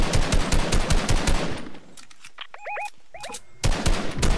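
Rapid automatic gunfire in a shooter video game comes in loud, close bursts, drops away for a quiet stretch with small chirping game tones, then returns in another sustained burst.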